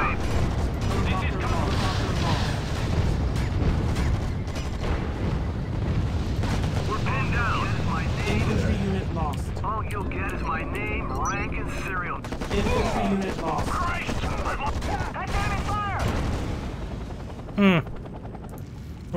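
Gunfire in the real-time strategy game Act of War: Direct Action: dense, continuous battle noise with repeated bursts and rumbling, accompanied by radio-style unit voices and chirpy sound effects.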